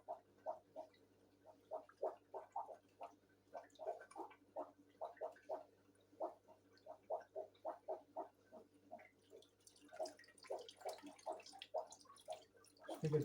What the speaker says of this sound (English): Final rinse in the cleaner water.